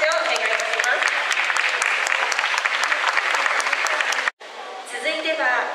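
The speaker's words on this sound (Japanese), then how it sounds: "の拍手をお願いいたします。" Audience applauds at a Japanese taiko drum performance with a full burst of clapping that cuts off abruptly, followed by a brief pause and then quieter sounds.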